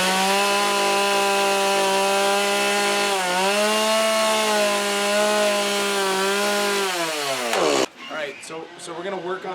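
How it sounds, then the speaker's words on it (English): A chainsaw drones loudly and steadily, its engine pitch wavering as it rounds off the handle of a wooden axe carving, then cuts out abruptly into scraping and handling noise. "we're just going to round off the handles by just going over it with the chainsaw"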